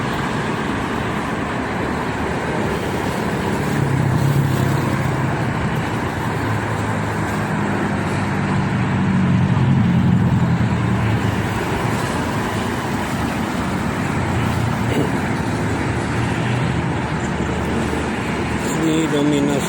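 Heavy holiday-weekend traffic of mostly private cars on the Jakarta–Cikampek toll road, a steady dense roadway roar with passing vehicles swelling now and then, continuous throughout.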